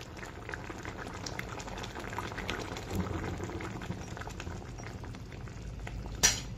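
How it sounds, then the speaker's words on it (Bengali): Chitol fish in mustard gravy with mustard oil simmers gently in a pan, a steady soft bubbling that stays faint and even throughout, with a brief louder clink or scrape near the end. "দিয়ে এটাকে আমি অল্প একটু সিমে করে রেখে দেবো 2 মিনিট।"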